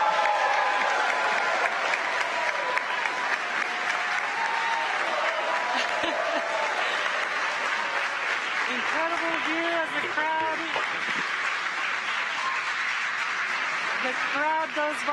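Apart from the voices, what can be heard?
crowd cheering and applauding Crew Dragon splashdown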